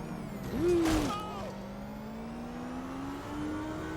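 Traffic in Watch Dogs: Legion, where a short loud whoosh of a passing vehicle gives way to a steady engine hum that rises slowly, with faint voices underneath.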